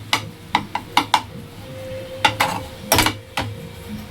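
Egg bhurji being stirred in a pan, a spatula scraping and clinking against the metal in irregular sharp strokes, with a quiet sizzle and hum running underneath.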